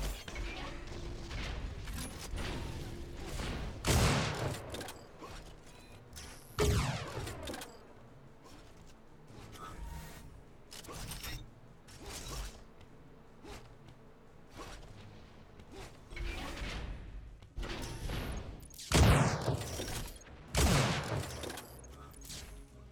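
Enforcer pistol gunfire in an Unreal Tournament match, delivered as repeated sharp shot bursts scattered across the stretch amid other game weapon effects and mechanical clatter, with loud spikes clustering near the middle and end.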